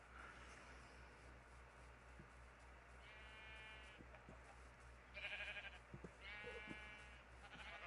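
Sheep bleating in the Minecraft video game: a few short, quavering bleats from separate animals, spread across several seconds over a quiet, steady ambient bed. No one speaks.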